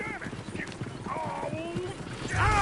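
Horse hooves clip-clop in the Western video game Red Dead, a steady rhythmic trot heard under overlapping character voices and game ambience, with a brief louder burst near the end.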